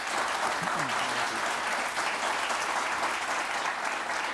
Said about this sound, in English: Thank you, Jamal. Round of applause.